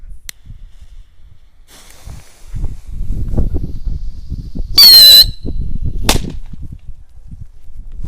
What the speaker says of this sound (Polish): rakietki oprócz dosyć głośnego pisku mają niezgorszą moc